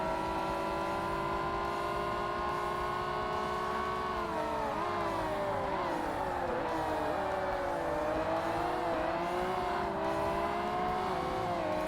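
Race car engines in the Forza Motorsport game, with a Pagani Zonda among the field: a loud, continuous engine whine that climbs and dips with the revs through gear changes and overlapping cars, with no breaks.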